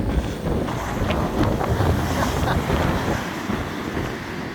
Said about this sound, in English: got these waves.